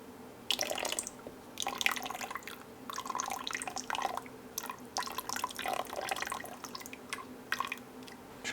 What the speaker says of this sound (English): we're going to stir in 3/4 cups vinegar